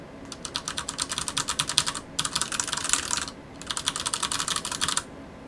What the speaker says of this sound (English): I'm just gonna try typing.